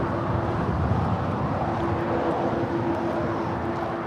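An Airbus A350-1000 airliner arriving at LAX, a broad continuous jet roar with a faint steady whine, loud and unbroken with no talking.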